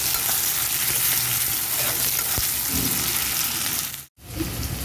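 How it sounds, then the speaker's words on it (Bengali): Chopped onions sizzle and fry in a hot pan, a continuous crackling hiss with occasional stirring scrapes, briefly cut to near silence before the frying resumes. "পেঁয়াজটাকে হালকা লাল লাল করে একটু ভেজে নেবো"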